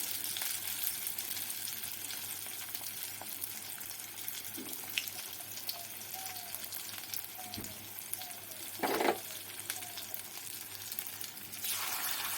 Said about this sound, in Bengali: বড়াগুলো বেশ ভালো করে ভাজতে দিয়েছি